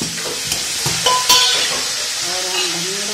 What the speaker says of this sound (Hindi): अभी हमने 5 मिनट तल लिया, 5 मिनट तक तल के डालेंगे